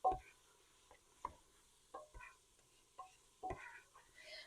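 Taco seasoning being stirred into a pot of soup, with a spoon scraping and clinking in a few separate strokes against a quiet background and a light sizzle.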